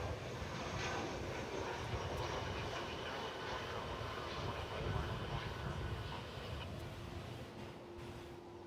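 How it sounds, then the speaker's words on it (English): An American Airlines Airbus A319 jet at DFW Airport gives a steady, broad roar of jet engine noise that holds at an even level throughout. "It's American Flight 2854, an Airbus A319 from Silao"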